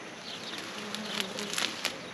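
A soft, steady hum of many honeybees buzzing close by in a hive box, with faint scattered higher whines drifting over a low background.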